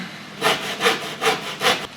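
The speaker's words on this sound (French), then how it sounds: "Et là, on sort la scie." Four even back-and-forth strokes of a hand saw biting through wood, close and crisp, with a steady rhythmic rasp and no voices.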